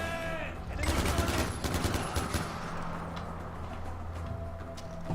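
Gunfire in Far Cry 4 rattles through a busy game soundscape, with repeated shots layered over steady background ambience and a low hum.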